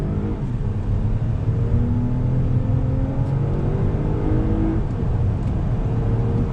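2020 Toyota Avalon TRD full-size sedan accelerating on throttle, with a steady loud engine drone whose tones climb gradually as it pulls, heard from inside the car with no talking.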